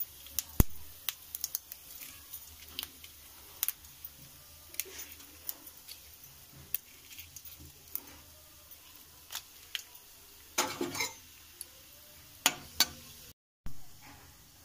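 Cumin and red chilli frying in mustard oil give off sparse, faint crackles and sharp pops over a quiet low hiss, with no talking.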